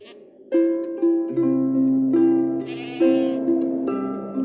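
A goat bleats in an audio story, a series of loud, wavering, tonal cries that follow each other closely, close and clear with no talk over them.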